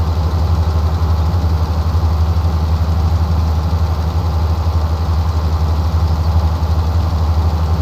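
Tractor engine in Farming Simulator 19 on a farm at Attingham Park, a loud, steady low idling rumble with no change in pace throughout and no talk.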